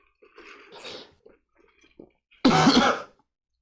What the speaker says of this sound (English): You're both coughing today